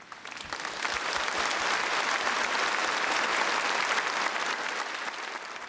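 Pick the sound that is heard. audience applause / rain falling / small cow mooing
audience applause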